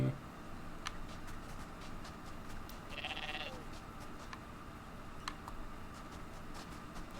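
A goat in the video game Everything lets out one short, bright bleat midway, set against a steady wash of ambient game sound and faint ticking.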